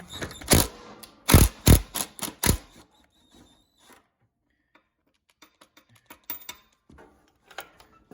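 Metal tool clanks and ratcheting clicks from a 17mm socket and 13mm wrench working bolts on a John Deere LT150 lawn tractor, a loud cluster of sharp knocks up front, then sparse quieter ticks and clicks.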